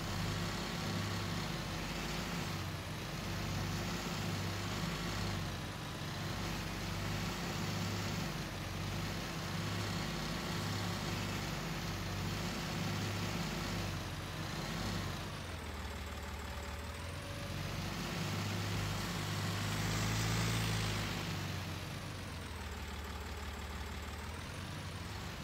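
Tractor engine in Farming Simulator 19 running steadily with a low, rumbling drone, a brief shift in pitch partway through, continuous and fairly loud with no speech.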